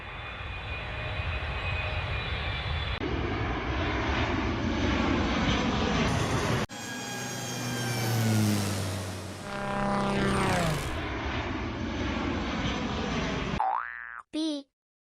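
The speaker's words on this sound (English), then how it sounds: "A for airplane." Propeller airplane engine droning steadily with a rising and falling pitch as it passes, fairly loud throughout, ending with a short cartoonish boing sound.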